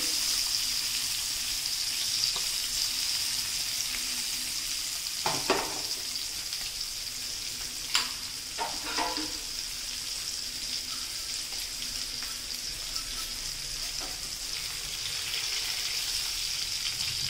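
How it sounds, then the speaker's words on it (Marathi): Katla fish pieces fry in plenty of oil on a tawa with a steady, crackling sizzle throughout, punctuated by a few spatula scrapes and taps while the oil is spread around. "तेल सगळ्याकडे पसरवून घ्यायचं, म्हणजे सगळ्या मच्छीला आपलं तेल लागेल"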